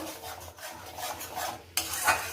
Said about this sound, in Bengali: পেঁয়াজ, আদা, রসুনের পেস্টগুলোকে দিয়ে একটু কষিয়ে নেব।